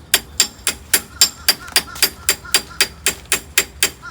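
A screwdriver is struck repeatedly against the starter motor of a Scion xB engine. About fifteen sharp metallic knocks come at a steady, brisk rhythm, loud and close, with no talk between them.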